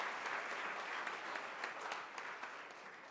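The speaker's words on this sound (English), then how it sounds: "Let's have another round of applause for 15 years" Steady applause from an audience at a 2014 ceremony marking an organization's 15 years, many hands clapping evenly at moderate distance with no voices over it.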